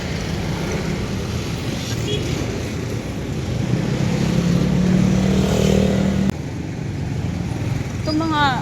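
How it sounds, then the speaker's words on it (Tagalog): Motorcycles pass through street traffic near a sidewalk, a steady engine drone and road rumble that swells mid-clip, with occasional horn-like tones and voices mixed in throughout. "Itong mga mga motor, alam nilang sidewalk na talagang sisingit pa sila."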